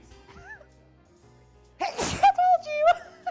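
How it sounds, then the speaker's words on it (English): A sudden, loud sneeze bursts out after a quiet stretch, followed by a voice speaking; faint background sounds sit underneath. "she's gonna sneeze"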